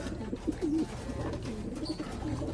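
A racing pigeon cooing softly nearby, a few low rolling coos over a faint background rumble.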